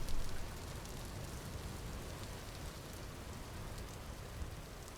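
Steady, dense rainfall in the survival game Vintage Story, a constant hiss of drops that stays even and fairly loud for the whole stretch, with no thunder or voices.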